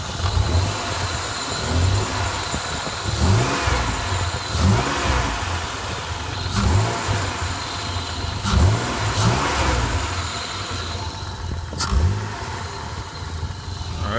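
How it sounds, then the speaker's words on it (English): A car engine revved repeatedly in a garage before an engine swap, rising in about six distinct surges over a steady running rumble, close and fairly loud, with no talking. "next I'm going to rev the engine up a little bit"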